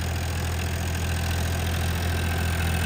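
A Farmtrac 47 tractor engine runs at a steady, unbroken drone nearby, driving an 8-foot rotavator, a constant low mechanical roar with no voices.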